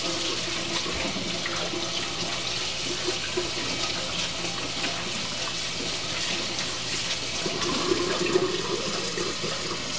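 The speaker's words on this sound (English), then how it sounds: "As you can see, I am washing my hands, getting in deep" Hands scrubbed under a steadily running tap in a kitchen, a continuous splashing water stream that stays even throughout, with a slight swell near the end.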